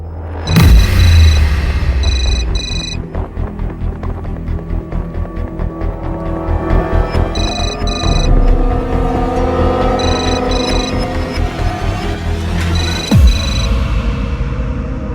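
A phone rings in repeated electronic trills, several bursts spaced a couple of seconds apart, over a loud continuous rumbling background.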